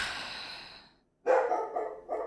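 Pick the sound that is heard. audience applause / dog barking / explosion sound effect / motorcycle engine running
dog barking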